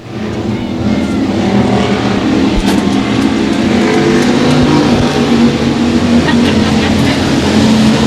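Race cars roaring around the track at Boyd Raceway, a loud, steady engine drone with revving swells as the field runs close by, with no pauses.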